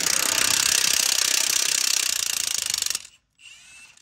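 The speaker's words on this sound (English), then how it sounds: "Now I just got my 15 swivel, long extension, and 1/2-inch gun." A 1/2-inch impact gun with a 15 mm swivel socket and long extension hammers out engine mount bolts on a 2007 Silverado 5.3 L 4x4, a loud rapid rattling burst for about three seconds, then a brief quieter spin.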